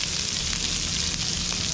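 Steady, loud sizzling of spiny lobster frying in a hot pan as it is flipped, with a dense continuous hiss and a few faint pops, no voices.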